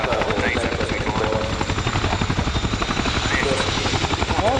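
A Royal Air Force Chinook helicopter reverses along the runway during an air display, its twin rotors giving a loud, steady, rapid blade chop that stays close and constant throughout.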